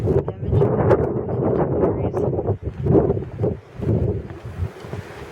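Gusty wind blowing on a chilly winter walk in the woods, a loud continuous roar buffeting the microphone and rising and falling in strong surges throughout.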